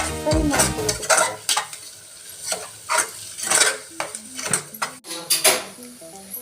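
Egg mixed with fenugreek leaves fries in a pan under a soft sizzle, while a spatula scrapes and taps the pan in an irregular stirring rhythm, close and clear.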